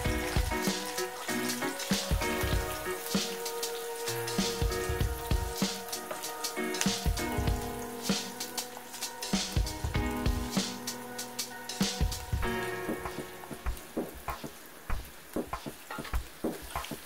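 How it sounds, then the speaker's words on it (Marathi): Cumin and mustard seeds tempering in hot oil, a continuous sizzle with sharp crackling pops and stirring scrapes throughout, fairly close with no talking. "तिला हे जिरं मोहरीची फोडणी।"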